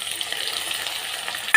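Tomato and coriander frying in a pan for upma, a soft continuous sizzle with light stirring, close by, ending in a brief louder scrape.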